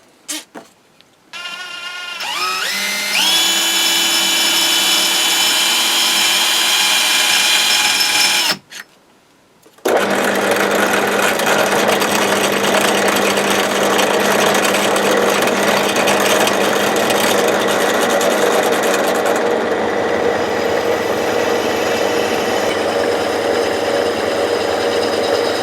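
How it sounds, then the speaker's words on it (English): A power drill bores a hole in metal for a shim on a Heuer vise. It starts in short bursts, then a steady loud whine runs with a brief stop near the middle and continues unbroken. "So just need to drill a hole."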